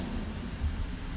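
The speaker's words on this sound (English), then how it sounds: "it's raining outside" Rain falls steadily in the horror video game Golgotha, a constant broad hiss with a low rumble underneath, unbroken and fairly loud throughout.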